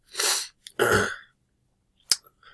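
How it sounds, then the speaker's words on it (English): A few short, breathy nasal sniffs in a cold basement, with brief pauses between them, close by and fairly loud, with no talking. "Sorry, I'm sniffling."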